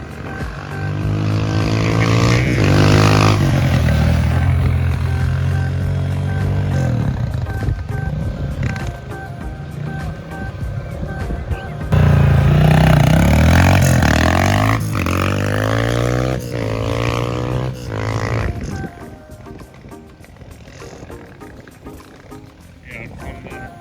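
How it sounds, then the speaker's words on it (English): A Honda motorcycle engine revs and idles up close, rising and falling in pitch, with a voice briefly audible between revs. "take the motorbike out"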